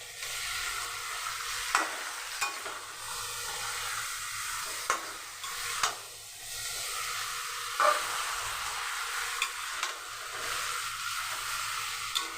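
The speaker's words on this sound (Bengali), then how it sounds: "খুব ভালো করে মাংসটা আগে কষিয়ে নিতে হবে পেঁয়াজের সঙ্গে।" Chicken sautéing with onions and spices in a pan: a steady close sizzle with occasional sharp scrapes and clicks from stirring, and no voices.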